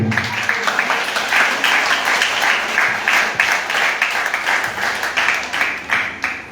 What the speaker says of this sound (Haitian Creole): Nous nous applaudissons et pour la frappe au son de la musique